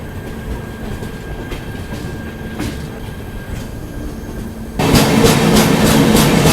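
The Haripriya Express passenger train, on its Kolhapur to Tirupati run, pulls out of Londa Junction through the Western Ghats in heavy rain. Wheels rumble steadily on the rails, then the clatter turns suddenly louder and brighter near the end.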